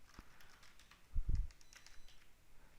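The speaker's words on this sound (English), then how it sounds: "we can just type" Fingers type on a computer keyboard in a short, quiet burst of clicks, the keystrokes bunched together near the middle and fading into faint tapping, with no talking.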